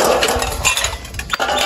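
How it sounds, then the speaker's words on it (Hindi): Metal pots and dishes clink and clatter while being washed by hand at an outdoor hand pump, with splashing water and busy continuous handling noise close by. "अभी हम नलके पे पहुंच चुके हैं। अभी हम बर्तन धोएंगे।"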